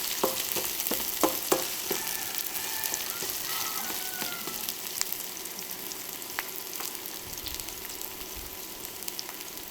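Onions, garlic and ginger fry in a pan, giving a steady crackling sizzle with scattered sharp pops and a few louder clinks early on, moderately close and without talk.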